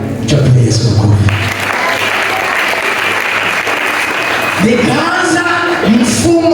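A church congregation applauds steadily throughout at a Night of Glory service, with a speaker's voice heard over the clapping and rising again near the end.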